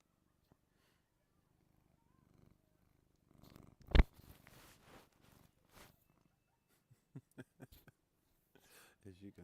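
A cat purrs close to the microphone, low soft rumbling coming in bursts amid quiet stretches, with occasional thumps and faint rustling.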